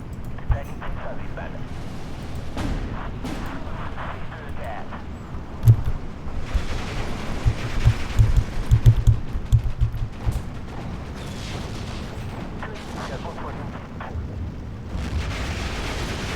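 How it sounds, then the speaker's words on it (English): Heavy artillery strikes explode in Steel Division 2, deep rumbling blasts rolling and swelling in the middle then continuing more faintly, with a voice speaking over the bombardment. "Tremendous artillery strikes from the enemy."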